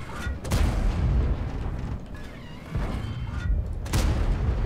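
Tank cannon fire in World of Tanks, with the Obj. 752 in play. Two heavy booms land about three and a half seconds apart, each followed by a rumbling tail and mechanical clatter, with no talking over them.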